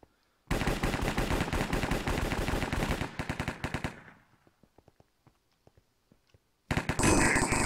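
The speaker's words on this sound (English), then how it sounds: "I was shot by Santa." Video game gunshots in Minecraft on the Hypixel server: a long, loud burst of rapid automatic fire that thins into scattered single shots, then a fresh loud burst near the end.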